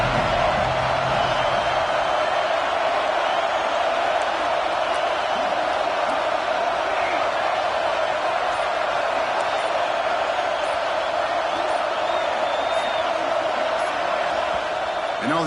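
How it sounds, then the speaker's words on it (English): Stadium crowd in the NCAA 26 college football video game during a Mizzou vs Tennessee matchup, a steady, loud roar of cheering that holds without a break for the whole stretch, with commentary voices faint underneath. "and the crowd really getting into it."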